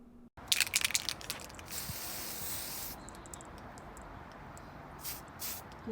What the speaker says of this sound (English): give them a good spray of Mr. Clean